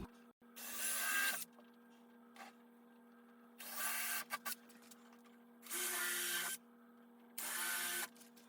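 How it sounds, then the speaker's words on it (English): A power drill whirs in four short bursts separated by pauses, drilling countersink holes in wooden beehive frame parts, with faint handling clicks between; nearby and fairly loud. "I'm ready to drill the holes for the countersink"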